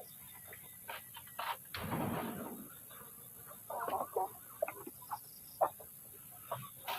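Chickens in a newly built permanent coop give faint, scattered clucks, with a brief rustling burst and soft clicks and insect-like chirps in the background.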